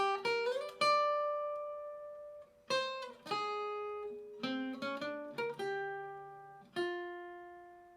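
A solo plucked guitar melody, single notes ringing out in short phrases with brief pauses, clear and close with no voices.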